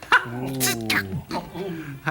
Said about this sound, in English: Oh, that must be Ellen barking.